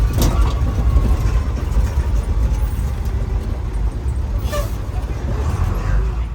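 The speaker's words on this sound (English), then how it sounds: "this was in an open air bus" An open-air safari bus drives through a wildlife park in Cumberland, Ohio, its engine rumbling steadily and close with road and wind noise throughout, with a brief brake hiss partway through and voices talking underneath.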